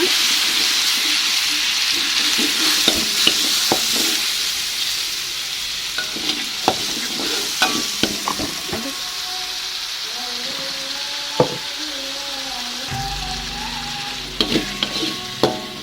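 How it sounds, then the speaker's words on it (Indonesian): Spice paste sautéing in a pan for quail egg and chicken meatball balado, a bright close sizzle with frequent clicks and scrapes of a spatula, fading slightly as stirring continues. "Langsung aja kita tumis bumbunya."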